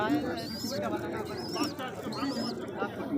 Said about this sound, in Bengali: এগুলো সব বড় কবুতর।